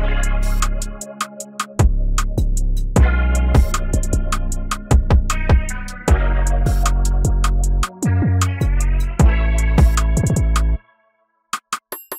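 A punchy electronic drum beat from the production of a track, with heavy kick, snappy snare and crisp hi-hats in a steady, bouncy groove, ending abruptly with a couple of faint hits.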